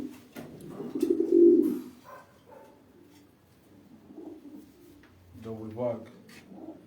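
Breeding pigeons cooing in a loft, soft low throaty coos rising in a few swells with a louder burst near the end, close by and moderately loud with little else around.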